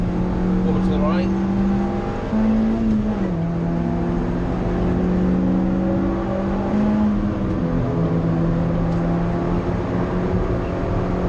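A car engine drones and rises through the gears on a first drive around the Nurburgring. The note is steady and near, with pitch steps at the shifts, and a voice talks over it.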